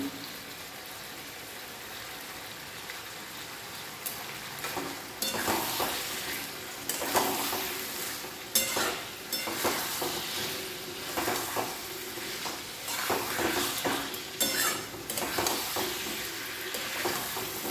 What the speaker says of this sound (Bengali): আরও একটুখানি কষে নেব এখন।